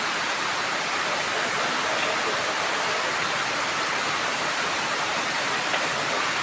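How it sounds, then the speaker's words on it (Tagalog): Dense, steady rain roaring without a break, a loud, even hiss like a downpour hitting surfaces close by, with no voices. "Grabe yung lakas ng ulan."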